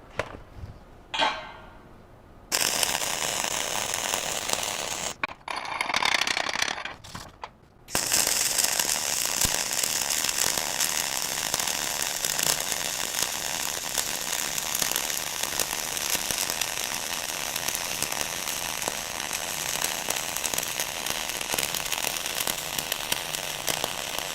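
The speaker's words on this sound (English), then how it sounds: "Okay, so there's our surface weld" Flux-cored arc welding lays down a surface weld of several beads, a steady dense crackling hiss running nearly the whole time after a few short starts and stops near the beginning, loud and close with no talking.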